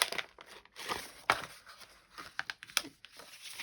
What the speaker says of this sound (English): you can crumple them up as much or as little as you like